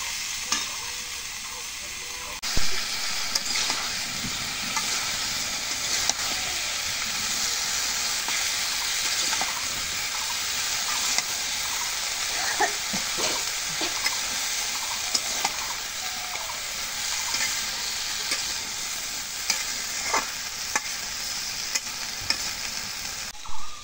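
Spice paste frying and being stirred in a pan for a traditional Bengali village dish, a steady sizzle under frequent scraping strokes of a spoon against the metal, close and continuous with no talk.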